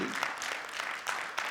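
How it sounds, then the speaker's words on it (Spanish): A church congregation applauds in praise during a Spanish-language sermon: a dense, steady wash of many hands clapping at once, fairly close and continuous throughout the short burst. "¿Puedes darle un aplauso de alabanza a ese que está ahí sentado a la diestra del Padre?"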